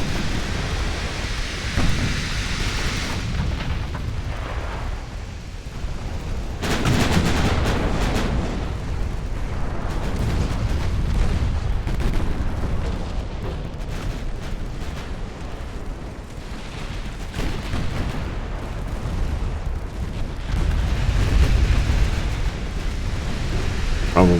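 Deep, rumbling booms of warship guns in Ultimate Admiral Dreadnoughts, a steady roar of distant heavy fire and rolling thunder-like reports that swell and fade over a long stretch.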